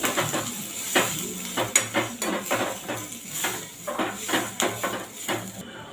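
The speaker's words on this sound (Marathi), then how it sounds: "आपला कांदा इथे छान भाजत आलेला आहे आपण यामध्ये खोबरा किस घालून घेऊ" Onion and grated coconut roast in a pan for a Maharashtrian curry, heard as repeated scraping clinks of a spatula against the pan over a soft sizzle, in a steady rhythm of distinct strokes.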